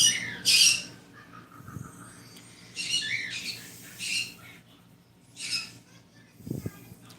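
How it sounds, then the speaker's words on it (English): Several pet birds kept in cages let out loud, harsh squawks in short irregular bursts, with quieter gaps and faint low rustles between them. "That is the joy of birds."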